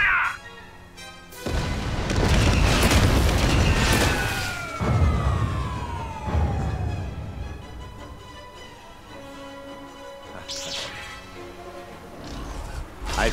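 Space battle in the game Lego Star Wars: ships fire blaster weapons with descending laser zaps and booming explosions, loud at first and then fading to a quieter rumble, with bursts returning near the end.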